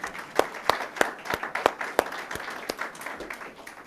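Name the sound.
audience applause at Memorial Day ceremony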